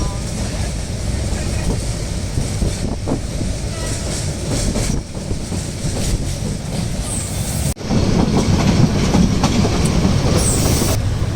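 A passenger train from Dhaka pulls into Chittagong railway station with a loud, continuous rumble and rattling wheel clatter that swells louder in the final seconds. Voices are heard beneath the noise.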